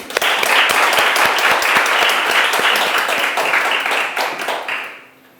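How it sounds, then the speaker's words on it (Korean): An audience at an event applauds loudly with dense, sustained clapping that holds for several seconds, then tapers off and fades into quiet. "다시 한번 큰 박수 부탁드립니다"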